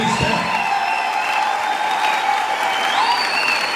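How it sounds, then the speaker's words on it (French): A church congregation applauds loudly and continuously, a dense steady wash of clapping with faint whistles or shouts over it. "Acclamez très fort pour la gloire de Jésus-Christ."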